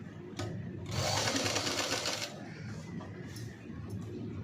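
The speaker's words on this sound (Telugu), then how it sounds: "చేసి ఇలా ఫోల్డ్ చేసి స్టిచ్ అనేది వేసుకోవాలి." A sewing machine runs a fast, steady stitching burst for about a second and a half while sewing the lining of a V-neck princess-cut blouse, close up, followed by light handling clicks of the fabric.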